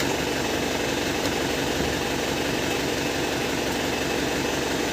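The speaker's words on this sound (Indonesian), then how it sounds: "Bagian mesin, suara mesin masih renyah ya kan" A 2011 Isuzu Panther GrandTouring diesel engine idles steadily, a dense, constant rumble recorded up close with no break over several seconds.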